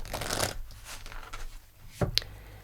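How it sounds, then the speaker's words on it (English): Tarot cards riffled and slid from a deck during a Taurus fortune reading, with a soft papery shuffle up front, a quieter stretch, then a sharp snap and flick near the end, close up and alone. "Let's pull you a fortune card."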